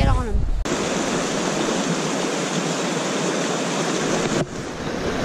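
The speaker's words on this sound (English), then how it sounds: "It's windy, and I'm right next to the creek." Constant rushing creek water roars close by, with gusty wind buffeting the microphone at the start and end.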